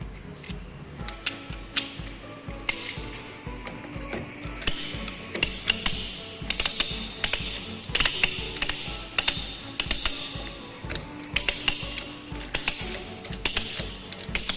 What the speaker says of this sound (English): we are going to go for threading by using the ratchet die